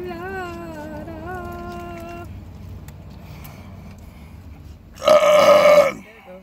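A loud, drawn-out burp erupts near the end, raspy and brief, after a stretch of tonal voice-like sound and quiet room noise.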